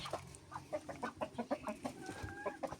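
Broody hens cluck in quick, uneven bursts nearby, a soft, busy chatter of several birds with one drawn-out call near the end.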